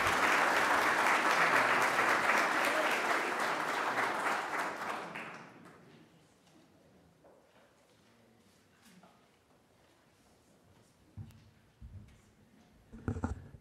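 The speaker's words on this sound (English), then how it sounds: "Can we just have one more round of applause for our panelists, for our Master of Ceremonies, and for our speaker?" Audience applause at a veterans' tribute for WWI remembrance swells loud and dense for about five seconds, then fades into quiet room noise with a few scattered claps and small bumps.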